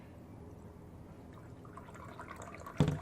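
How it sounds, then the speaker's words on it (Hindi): Water filtering through a cloth into a glass gives a faint, steady trickle, ending in a brief louder splash. "आप देख रहे हैं ग्लास में साफ पानी आ रहा है"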